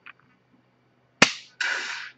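Laser training pistol firing dry shots from an iTarget ProClip 2 setup: a faint tick near the start, then two sharp loud clicks, the second with a longer bright rasp, close by and alone with no talk.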